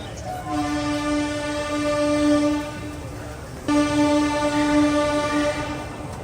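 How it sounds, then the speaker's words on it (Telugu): A Durg–Visakhapatnam Express train's horn sounds two long, loud blasts as it departs Vizianagaram station, over the rumble of the moving train, with rail noise continuing between and after them. "విజయనగరం నుంచి మన ట్రైన్ అయితే బయలుదేరిపోయింది కదా"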